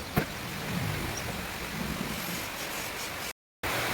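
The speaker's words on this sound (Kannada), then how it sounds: "ಇವಾಗ ನಿಮಗೆ ಸೌಂಡ್ ಕೇಳ್ತಿರ್ಬೋದು ಮೇಲ್ಗಡೆ. ಇವಾಗಷ್ಟೇ ಮಳೆ ಸ್ಟಾರ್ಟ್ ಆದ." Freshly started rain gives a broad, steady hiss overhead, even and fairly soft, with one brief dropout near the end and no voices.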